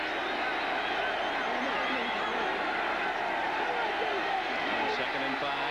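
A huge football stadium crowd of over 90,000 at a 1984 Broncos vs. Raiders game, a steady distant roar and murmur heard as a constant wash beneath the broadcast.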